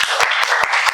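A short burst of rhythmic clapping from a group of children cheering a classmate named Dhruv, about five quick claps in under a second, close and fairly loud.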